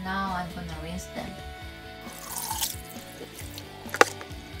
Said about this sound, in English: Now I'm gonna rinse them.